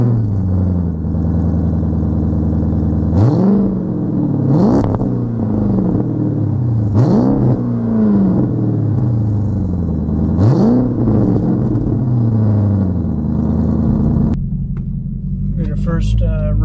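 A 2006 Chrysler 300C with a 5.7 Hemi engine idles loud and close, broken by about five sharp throttle blips. Each blip swells and then settles back to a deep, steady idle, and the engine drops off near the end.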